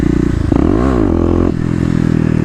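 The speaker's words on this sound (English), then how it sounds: "just a little clutch pop now gets the front wheel up" Kawasaki KLX250 motorcycle fitted with a 13-tooth front sprocket, clutch popped to lift the front wheel: the engine surges in a sharp rev that rises and falls, then settles to a rough idle, close and loud.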